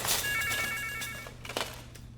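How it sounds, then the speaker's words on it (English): A telephone rings with a fast warbling electronic trill in one burst, fairly quiet and set in a room with faint ambient noise, followed by a few soft knocks. "The phone rings again."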